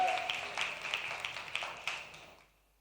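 A church congregation claps hands together during a Sunday service, a burst of scattered, overlapping claps that rises and then fades out to quiet.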